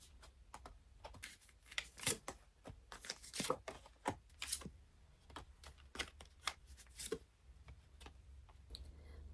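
Oracle advice cards being shuffled, a quiet run of crisp, irregular card slaps and riffles close by, with no voices.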